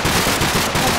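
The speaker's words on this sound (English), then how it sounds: "It's a big explosion." A loud, dense explosion in the video game Minecraft fills the whole second with a harsh crackling roar of rapid bursts.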